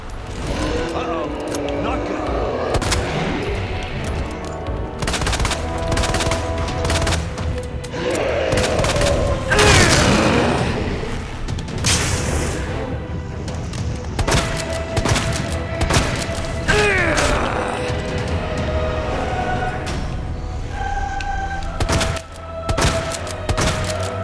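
Magnum revolver gunshots in the video game Resident Evil 2, loud booming blasts and heavy thuds over a dense background of game effects and rumbling, with bursts clustered in the middle.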